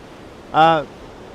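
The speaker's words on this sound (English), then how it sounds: "I made it to the first waterfall, and then as you can see, it's right here." A waterfall at Sombrio Beach, flowing strongly in spring, sends up a constant broadband rush that fills the scene. A brief vocal sound rises above the roar midway.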